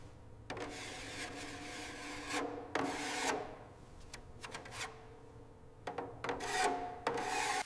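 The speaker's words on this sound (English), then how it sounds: "Each panel is sanded, inspected, and corrected with precision" A body panel of a 1936 Bugatti Type 57 Atlantic being sanded by hand, with repeated raspy rubbing strokes in bursts and short pauses, close and fairly quiet over a low background hum.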